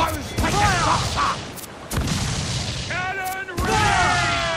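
Ship cannons boom in a naval battle in Assassin's Creed 4 Black Flag, several heavy blasts spaced a second or so apart, loud and close, with shouted crew voices and game effects around them.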